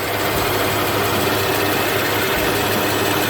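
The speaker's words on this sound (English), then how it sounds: "that's the clutch that is actually spinning right here" A 2010 Lexus RX350 engine idles with its AC compressor clutch spinning, a steady, loud mechanical hum and whir heard up close and without pause.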